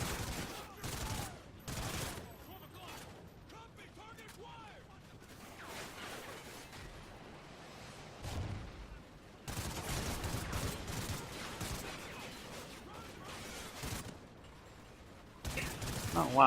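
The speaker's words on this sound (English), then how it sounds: "there was a guy in the last stand shooting me with a pistol" Gunfire in the video game Call of Duty: Ghosts, campaign mission Birds of Prey, comes in repeated sharp bursts and volleys separated by quieter stretches, with someone talking between them.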